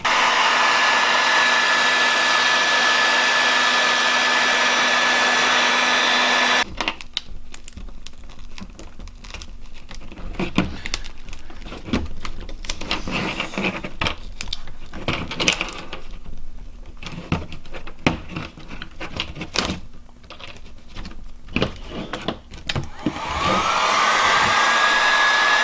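A hair dryer blows hot air onto the back of a Samsung Galaxy S6 phone, a loud steady roar that cuts off, leaving faint handling clatter and crinkling before the dryer starts up again near the end.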